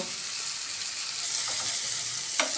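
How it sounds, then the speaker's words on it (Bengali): Small pieces of beef fry in a pan with spices for noodles, a bright continuous sizzle with a few stirring scrapes, close and steady. "এখন আমি এটা ভালো করে ভেজে নিব"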